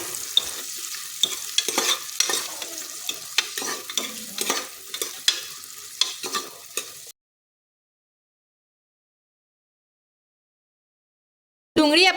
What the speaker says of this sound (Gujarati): ડુંગળીને આપણે અહીંયા થોડી સાતળી લઈશું।